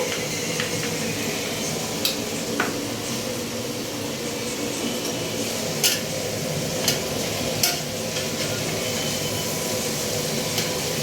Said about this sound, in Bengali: এখন পেঁয়াজ আর মাটনটা ভালো করে ভাজা হচ্ছে